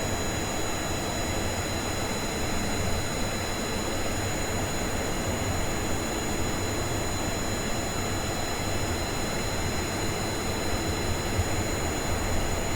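A small plane built in Kerbal Space Program rolls down a runway for takeoff, a steady, loud broadband engine roar with a constant hum that holds evenly throughout, without talk.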